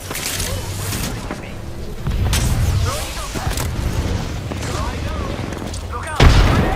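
Gunfire and booming shots in the battle-royale game Apex Legends, a busy sustained exchange of shots with a heavy blast near the end, voices calling out over the combat.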